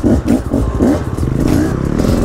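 An enduro motorcycle engine revs close by on a snowy trail, loud and uneven, with rhythmic surging bursts and clattering as the bike struggles through snow.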